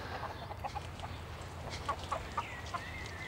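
A hen clucks close by in a short series of sharp, separate clucks, over a low steady background hum while a dog sniffs around it.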